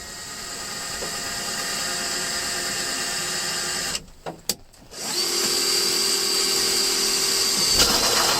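Power drill boring holes through the fiberglass hull of a Prout catamaran, a steady close whine running several seconds, a brief stop with small clicks, then drilling resumes at a slightly different pitch.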